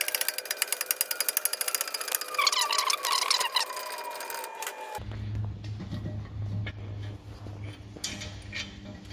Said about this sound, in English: we'll undo these big 21mm bolts on the inside to do the carrier